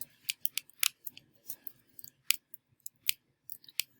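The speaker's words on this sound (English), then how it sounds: "Type it, press enter." Sharp, dry keyboard key clicks tapped out in an uneven run, close and fairly quiet, with brief pauses between bursts and one slightly heavier press near the middle, while entering a name in an Oregon Trail online game.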